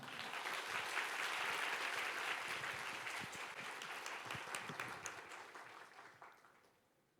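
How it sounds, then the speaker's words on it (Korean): Sustained applause from a large audience at a Korean church youth retreat as the pastor is welcomed to the stage, dense and steady for several seconds before fading out at the end. "뜨거운 박수로 목사님 모시도록 하겠습니다"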